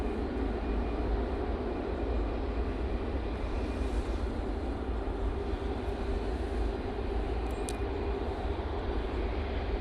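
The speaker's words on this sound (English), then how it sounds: "Etihad 777 is now in a taxi in that hybrid livery" Etihad Boeing 777 airliner in hybrid livery taxiing at Manchester Airport, a steady, distant broadband jet engine roar that holds evenly throughout with no voices.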